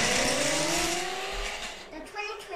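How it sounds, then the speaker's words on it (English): Hot Wheels McLaren 720S toy cars rolling down a plastic track in a race, a steady whirring rush that fades out after a couple of seconds, close by. "Let's get the racing started."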